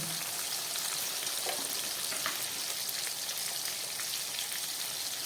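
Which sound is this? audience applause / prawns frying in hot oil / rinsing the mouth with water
prawns frying in hot oil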